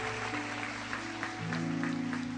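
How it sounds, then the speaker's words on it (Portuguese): A church congregation claps steadily, dense applause over a sustained musical drone, with no voices standing out. "Vamos aplaudir o nome santo do nosso Deus."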